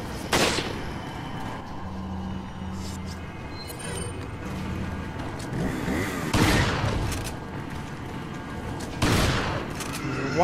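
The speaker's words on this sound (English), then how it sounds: "We'll whittle him down with the rifle." Rifle gunfire in the Resident Evil 4 survival horror video game, several sharp booming shots spaced seconds apart over a dense game soundscape, fairly loud and close.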